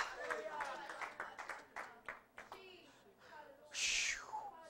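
A church congregation claps hands in praise, scattered rhythmic claps fairly faint, with a brief shout or cry rising near the end and voices in the background.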